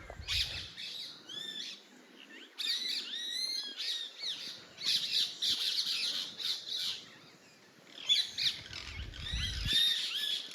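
Loud, harsh parrot squawks repeat in bursts, with rougher calls and some chirping, plus a low rumble near the start and end.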